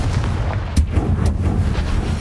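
A Confringo fire spell goes off in Hogwarts Legacy with sharp booming blasts and cracks over a rumbling game background, loud and close, with several quick impacts.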